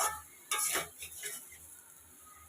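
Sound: soybean chunks and potatoes cooking with egg curry in pan

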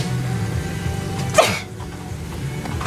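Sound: sneeze

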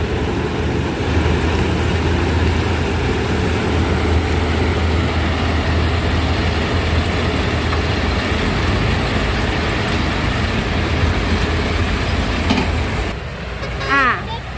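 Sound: small sugarcane harvesting machine engine running

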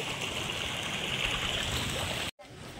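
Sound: cold spring water running, used to wash face

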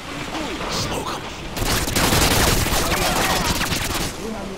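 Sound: gunfire in video game Modern Warfare 2

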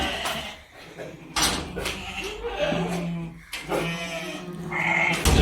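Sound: lambs bleating

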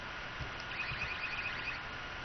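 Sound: alarm ringing in Garry's Mod (Half-Life 2) video game

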